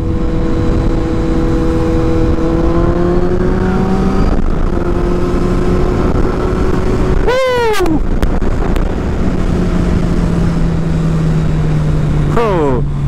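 A Kawasaki Z800 with an aftermarket Giannelli exhaust revs with a deep, throaty exhaust, its pitch climbing and dropping, with two sharp rev sweeps cutting through steady wind noise.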